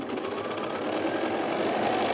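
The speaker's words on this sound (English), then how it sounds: "And once again, sewing all that down." Sewing machine running continuously while quilt strips are stitched together, a close, steady motor whir with rapid needle clatter throughout the short burst.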